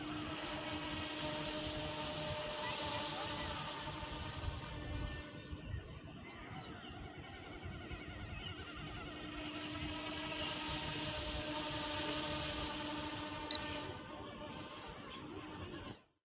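A small GPS RC helicopter, an F09-S, whines steadily with a droning rotor hum, its pitch and loudness swelling and easing as it flies, no voices.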